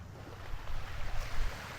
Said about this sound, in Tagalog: So party doon, medyo malalakas na yung alon.